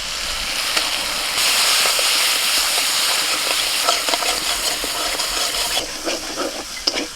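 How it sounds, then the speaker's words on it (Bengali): Masala of turmeric and chilli powder frying in a pan with sesame paste being stirred in, a steady loud sizzle with scraping stir strokes and brief clicks throughout, no voices. "মশলাটা একটু কষিয়ে নিয়ে এখন দিয়ে দিচ্ছি তিল বাটা"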